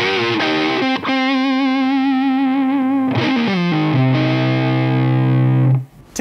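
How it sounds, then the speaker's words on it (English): Bends ring out on a Gretsch Electromatic hollow-body electric guitar, 2022 G5422TG or G5420T model, through a distorted, effects-laden tone: sustained notes slide and waver in pitch, loud and close, with no one talking. "Two-stop bends just sound fantastic,"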